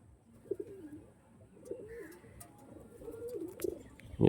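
Soft pigeon coos repeat in a slow, rolling pattern against a quiet background, with a brief louder knock at the end.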